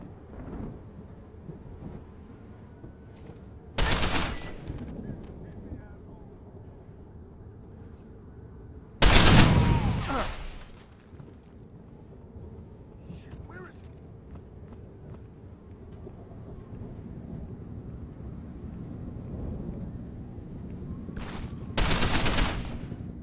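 Gunfire during a combat assault in Deus Ex: Human Revolution, with three loud booming bursts separated by quieter stretches of rumbling, scattered impacts and movement.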